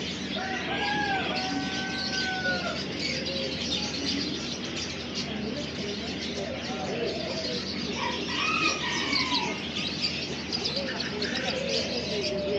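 Chickens, roosters and other birds at the bird section of Souq Waqif market, a dense busy din of clucking, repeated crowing and chirping, with people talking in the background.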